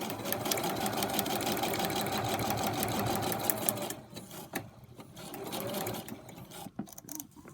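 A sewing machine stitches fabric in a fast steady mechanical whir for about four seconds, then runs in shorter softer bursts with pauses and a few clicks, close and with no voices.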